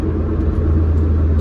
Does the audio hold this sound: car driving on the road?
yes